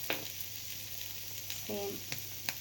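An omelette fries in a pan with onion, coriander and green chilli, giving a steady soft sizzle under faint ticks and a brief scrape of a spatula midway.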